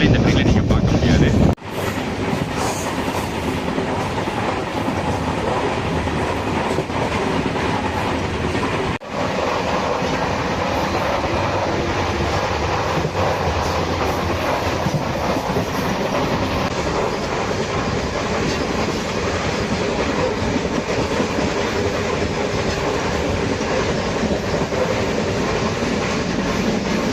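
The Bhagat Ki Kothi-Mannargudi Express passenger train runs on rails with a loud, continuous rumble and rattling clatter heard from on board, steady throughout.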